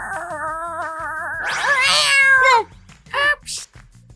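A voice imitates a cat, producing a long, wavering meow that rises into a strained yowl, followed by a couple of shorter mewing cries.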